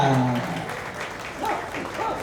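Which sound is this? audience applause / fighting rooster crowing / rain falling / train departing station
audience applause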